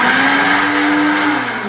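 A Silvercrest professional blender runs at full speed, a loud, steady motor whir with a sustained tone that dips slightly toward the end, with no talking.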